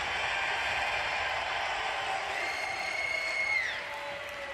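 A large Blizzcon audience cheers and applauds for the Horde, a dense wash of crowd noise heard from a distance that tapers slightly at the end.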